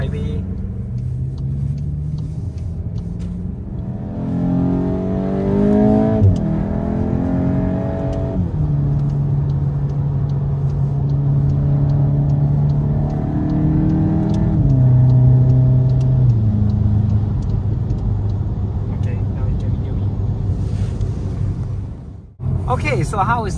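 VW Golf GTI MK8 Clubsport 45 cruising on a highway, with a steady loud engine drone and road rumble that rises and shifts pitch through several gear changes, a person talking over the noise inside the cabin.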